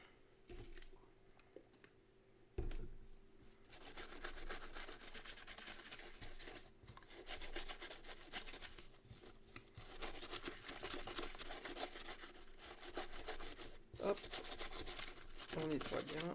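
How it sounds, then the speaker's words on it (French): Someone scrubs the grooves of a Game Boy shell with white vinegar, quiet continuous rasping and rubbing strokes in bursts with short pauses, close and soft. "on frotte bien dans les rainures"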